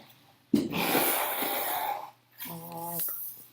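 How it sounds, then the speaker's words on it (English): A person blowing their nose, a sustained loud honking exhale of about a second and a half, followed after a brief pause by a second shorter, buzzy blow. "I'm going to blow my nose"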